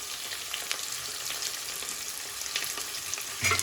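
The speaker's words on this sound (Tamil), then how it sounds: "அது போட்ட உடனே வெங்காயம் போட்டுக்கலாம். 4 வெங்காயம், பெரிய வெங்காயம்" Four large onions fry in hot oil for mutton biryani and are stirred, giving a dense, steady sizzle with a light scrape near the end and no talking.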